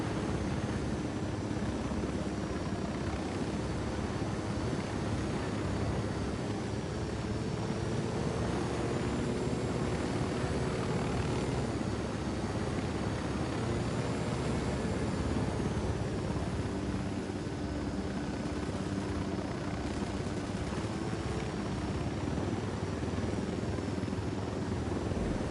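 A video game helicopter drones steadily with continuous rotor and engine noise that holds at a constant level throughout.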